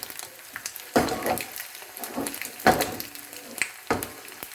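Omelette pasta sizzles in a frying pan on the stove in intermittent bursts, fairly close, rising and fading several times with no talking.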